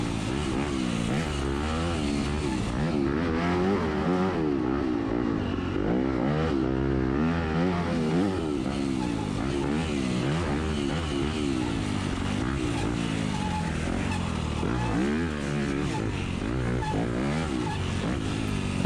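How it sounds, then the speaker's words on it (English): A 250cc dirt bike engine revs and drones continuously with shifting pitch at a hill climb race on a mountain course, loud and close, with other engines mixed in. "stalled his bike. He's going to take off pretty quickly"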